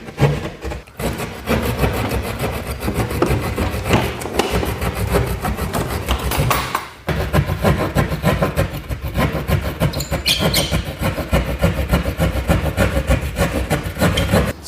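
Drywall being cut open for a plumbing hole, giving a steady, rough sawing and rasping scrape that runs almost continuously and close, with one brief pause midway.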